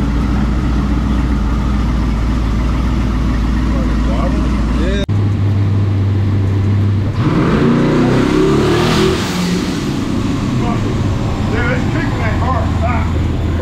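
A boosted Cadillac CTS-V on a dyno roars loudly as it revs, with the wheel spinning and losing traction. The engine drones steadily, then surges in a harsher rising burst, with voices talking over it.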